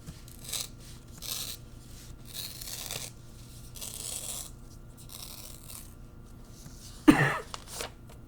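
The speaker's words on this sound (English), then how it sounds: "We now split the paper into fourths." Paper is torn into fourths, with repeated soft ripping strokes at a low level through most of the clip and one louder, closer tear near the end.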